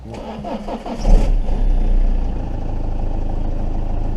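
A Citroën Xsara Picasso engine cranks briefly with the key, catches and settles into a steady, close idle, loud and alone.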